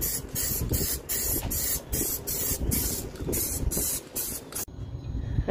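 Fabric spray paint hisses onto faded window screen covers from a trawler boat in a rapid series of short, close, even bursts, each separated by a brief gap, before stopping abruptly.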